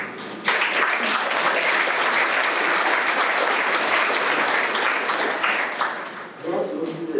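A crowd at an awards night bursts into sustained applause, steady and loud for several seconds, then tapering off as a voice starts to speak.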